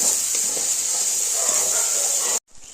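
A steady, close sizzle of spice paste frying in oil with salt, cooked down for a vetki fish dish, hissing continuously before cutting off abruptly near the end.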